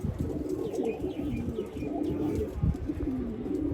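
Pigeons, including a white one being treated for an eye and throat illness, coo in low steady murmurs with faint chirps above, close and continuous without any speech.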